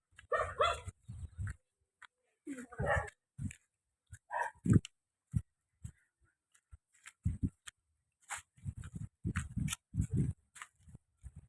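Dogs barking and yelping in short bursts with gaps between, fairly close, with some scraping and chewing sounds.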